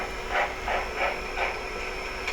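An O scale model locomotive's Blunami sound decoder plays a medium steam exhaust chuff, five or six soft, evenly spaced hissing puffs over a steady background hum, with no voices.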